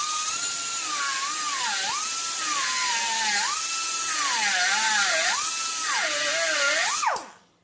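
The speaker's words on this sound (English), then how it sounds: "That was actually surprising for the little grinder." Harbor Freight Chief pneumatic mini die grinder grinding hardened steel shafting, a loud high-pitched whine that rises and dips repeatedly as load changes, then spins down abruptly at the end.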